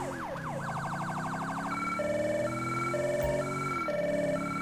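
Federal Signal Delta police siren in GTA V, switching from a rapid yelp to a fast warble and then a steady two-tone hi-lo pattern over a low engine rumble, close and continuous.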